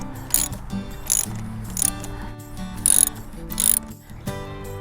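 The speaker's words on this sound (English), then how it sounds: "I got my 8mm socket and just remove these." An 8mm socket ratchet loosens the factory blow-off valve bolts on a Ford Bronco in about five short, crisp bursts of rapid clicking, close up with brief pauses between strokes.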